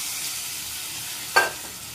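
A spoon stirs fried dry fruits into carrot halwa in a pan, giving a soft, steady sizzle with one brief scrape partway through, close and alone without talk.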